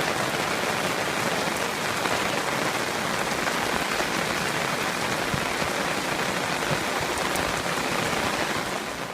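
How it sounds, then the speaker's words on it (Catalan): Heavy storm rain pours down in Barcelona during the September 2014 temporal, a constant, loud, dense hiss of drops striking surfaces that continues evenly with no voices. "Veiem aquí la pluja força intensa"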